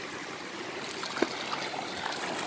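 A small waterfall in a rocky wadi streams steadily over stones, a continuous soft rushing with faint splashes and no voices.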